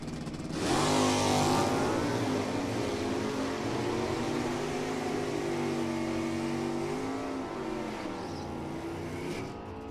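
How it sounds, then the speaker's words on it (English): NHRA drag racing cars roar down the racetrack, a loud sustained engine drone that swells suddenly, then holds a rising, shifting pitch for several seconds before easing slightly, heard from a distance with no talking. "cars go down the racetrack"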